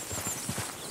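Strawberry roan Tennessee Walker horse in Red Dead Redemption 2 stepping in a quick run of close, rhythmic hoof clops, fairly loud, with no talk.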